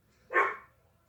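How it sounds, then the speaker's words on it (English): A single short, close dog bark sounds once against a quiet room background. "Sorry, that's my dog."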